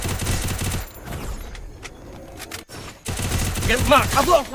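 Rapid bursts of gunfire from the Garena Free Fire battle royale game crackle loudly at the start and again near the end, with quieter game noises in between.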